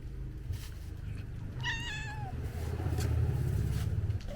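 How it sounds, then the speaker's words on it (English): A cat gives one clear, drawn-out meow partway through, over a low, steady background rumble indoors. "Oh my god, you guys remember how little this cat was before?"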